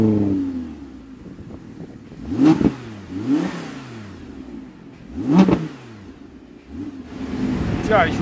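Audi R8 engine revving, several sharp throttle blips rising and falling in pitch at close range, with a voice briefly heard between revs.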